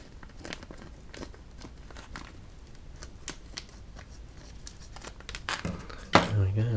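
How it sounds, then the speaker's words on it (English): Scissors cut across the welded seal of a resealable plastic bag, a run of close, light crinkling snips and rustles ending in louder plastic handling. "I'm going to have to get the scissors and cut across there."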